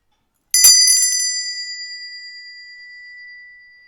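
A single bell or singing bowl is struck once to close a protection ritual, ringing out with a bright metallic strike and a long pure tone that slowly fades over several seconds.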